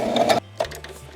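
A sewing machine runs in a short burst stitching stuffed fabric straps for a Mandalorian costume vest, stopping briefly before a second quick pass, close and clear.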